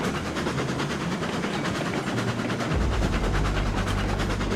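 A huge train in a train simulation game rumbles steadily along, with a low heavy engine drone under rolling wheel noise that deepens and grows louder partway through.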